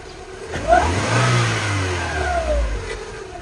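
A car engine, a taxi with a suspected crankshaft problem, revs up loudly as it accelerates, the pitch climbing and holding before easing off, close by and with no voices over it.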